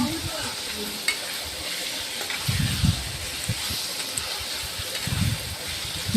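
A spice mixture blended with water cooks in a pan, giving a steady frying sizzle with two brief low scraping bursts of stirring, close and fairly quiet, with no talking.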